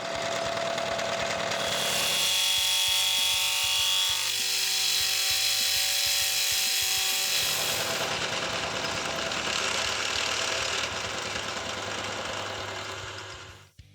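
Roughing end mills cutting 4140 steel with coolant: a loud, sustained grinding machining roar with a rapid chattering pulse and shifting whine, which winds down at the end.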